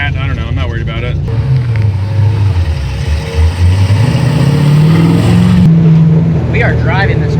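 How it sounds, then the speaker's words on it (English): A junkyard LS truck engine swapped into a 1964 Chevy Nova rumbles loudly as the car drives, its low exhaust note rising and falling with throttle, while people talk over it inside the car. "We are driving this car right now."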